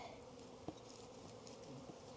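A honeybee swarm hums continuously at close range around a hive box, a steady, fairly quiet insect buzz that holds evenly throughout with no voices.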